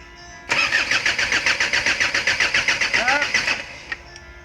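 A Mitsubishi Pajero engine, just repaired after an overheating problem, cranks close by with about three seconds of rapid, even pulses, then stops, followed by a faint click.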